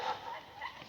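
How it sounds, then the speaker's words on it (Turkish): A dog barking somewhere away from the listener, a couple of faint, short yelping barks within about a second over a quiet background. "Köpeğe sataşıyorsunuz diyormuş. Sataşmasan da havlaya bak."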